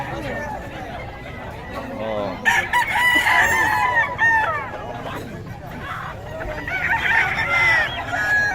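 Roosters crow loudly near and far, several overlapping calls, with a busy crowd murmuring and voices talking underneath.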